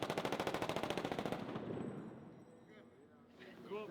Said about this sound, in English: Fire in the hole, guys. We're doing a test fire.